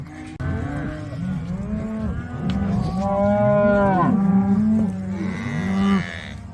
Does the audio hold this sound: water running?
no